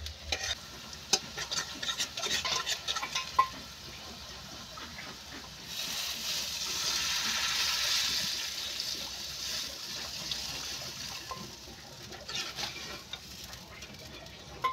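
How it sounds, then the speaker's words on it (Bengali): Water is poured into a pan of fried onion and garlic for a fish curry, a loud hiss and bubbling rush that swells midway and then settles into a softer simmering sizzle, with no talking. "এবার আমি জল দিয়ে দেবো"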